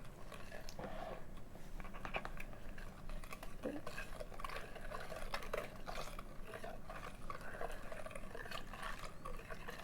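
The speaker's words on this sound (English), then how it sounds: "you get 2 cups of milk, and you slowly pour it in while whisking" Milk poured slowly into a pan while a whisk stirs and scrapes, a steady soft liquid swirl with faint clinks of metal on cookware throughout, close by.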